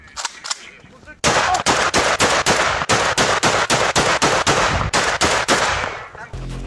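Loud, rapid gunfire in a long burst of sharp shots fired close by, preceded by a few quieter scattered bangs and noise; Russian soldiers shooting unarmed Ukrainian prisoners of war.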